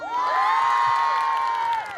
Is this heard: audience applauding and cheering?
yes